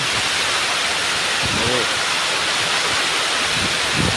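Rain falls steadily near a fishpond in Quezon during a bangus fry release, a constant loud hiss of broadband noise with a few faint voices and low knocks underneath.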